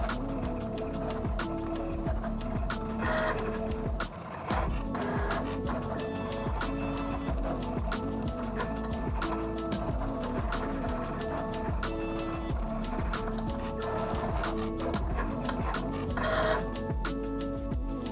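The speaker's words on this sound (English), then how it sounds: "I'm going to start my cut from my machine, so I'm simply going to select Start Cutting, and the machine will start our cut." A SINGER Momento cutting machine cuts vinyl, producing a continuous close mechanical whir with rapid ticking and chattering motor pulses that shift in pitch as the carriage moves.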